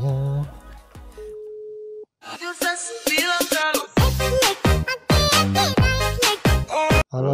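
A phone rings out while a courier calls a delivery recipient: a short steady tone sounds, then people talk loudly over the line afterward.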